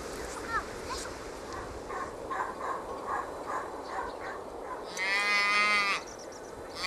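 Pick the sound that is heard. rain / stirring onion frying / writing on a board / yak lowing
yak lowing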